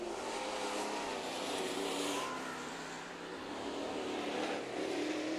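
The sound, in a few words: race cars racing on a speedway track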